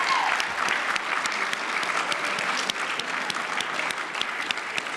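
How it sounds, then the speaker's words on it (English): Steady, sustained applause from a large audience at the closing celebration of the 2024 Mandela Washington Fellowship Summit, greeting colleagues as they come on stage; dense, even clapping fills the space throughout. "So let's give them a round of applause."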